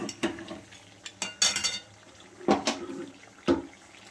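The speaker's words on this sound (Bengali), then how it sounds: "মাংসে চাপ মশলা দিয়ে ভালো করে নাড়াচাড়া করে নেওয়া হচ্ছে" Mutton being stirred with chaap masala and yogurt in a pan, with a few distinct scraping and clinking strokes of a spoon against metal spaced out across a quiet background.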